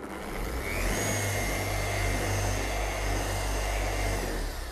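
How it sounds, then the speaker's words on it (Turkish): An orbital polishing machine fitted with a medium-hardness pad runs on car paint during paste polishing, producing a loud, steady, close motor whir with a constant low hum for the full length. "Şimdi burada da orbital makine üzerine yoğunlaştık."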